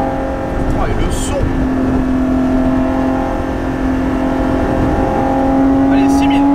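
Lotus Exige 430 Cup engine accelerating hard on a track, heard from inside the cabin as a loud, steady droning note that rises slightly in pitch, with a voice speaking over it.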